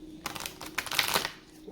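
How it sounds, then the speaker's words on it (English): A deck of tarot cards is shuffled in a quick, close riffle of crisp flutters lasting about a second. The sound is alone, with no talk. "One last shuffle for July 10th,"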